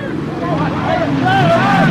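A race boat's engine running just after starting at a six-hour endurance race, a steady droning roar with shifting whine tones, under crowd babble and shouting.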